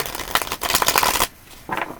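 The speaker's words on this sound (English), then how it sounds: "I'm just not satisfied with the shuffling either right now." A deck of tarot cards shuffled by hand nearby, with two quick riffling bursts of crisp flutter and slapping, then a short pause before a final brief riffle, without any speech.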